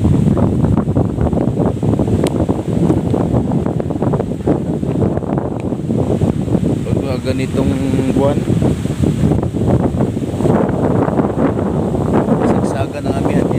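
Strong northeast monsoon wind roars steadily along a seashore where a boat is moored, a loud continuous buffeting rush against the microphone with surf beneath, while someone speaks over it.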